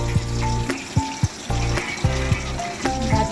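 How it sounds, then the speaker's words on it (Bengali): Phali fish frying in hot oil, a close, loud, continuous sizzle with repeated clattering knocks and scrapes of the spatula against the pan at irregular intervals, no voices. "বন্ধুরা, আমি এখন মাছগুলো ভেজে নিচ্ছি"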